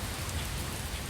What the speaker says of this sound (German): Es regnet kräftig, ein für diese Jahreszeit übliches Wetter.